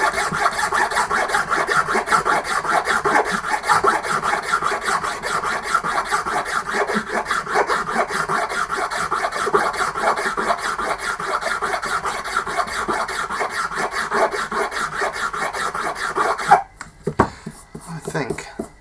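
Steady, continuous rasping of a hand file levelling a part by hand, close and loud for about sixteen seconds before stopping into a few quieter handling knocks.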